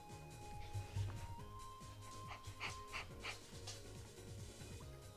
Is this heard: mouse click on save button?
no